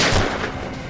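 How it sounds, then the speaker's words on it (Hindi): A burst of loud gunfire crackles and booms continuously, a dense rapid volley with no pauses or voices. "इस कमरे से गोलियां चलने की आवाज आ रही है"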